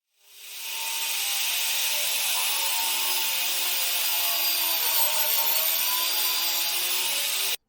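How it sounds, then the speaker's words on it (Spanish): A Forstner bit bores a hole into wood for a hinge, giving a steady, continuous grinding whir that ramps up quickly and holds at an even level for several seconds, close up and with no talking. "Ahora voy a probar la perforación con la broca Forstner."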